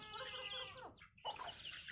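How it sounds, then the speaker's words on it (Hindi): Chickens clucking in a village house yard, a few faint, close clucks and short calls over a quiet rural background. "देखो मुर्गा सब हम लोग के घर में है"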